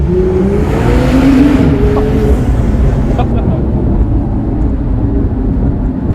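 Morgan Supersport engine pulling hard in second gear inside a tunnel, a loud close rising drone echoing off the walls and holding steady, with no talk over it.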